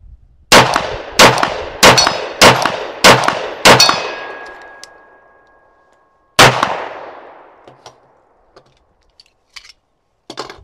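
Six sharp pistol shots from a SIG P365X fired in steady succession, each ringing with a metallic clang and decaying tail, then a pause and one more loud shot fading out, followed by faint scattered clinks.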